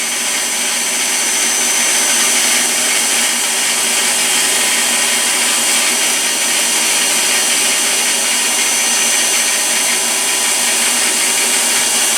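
A machine taking a very light facing cut, about a thousandth of an inch, on stock already faced to size; a steady, loud, high whirring machining noise runs unbroken throughout with no talk.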